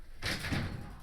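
A household door opens with a short, muffled swoosh and rattle at close range, in a quiet indoor space.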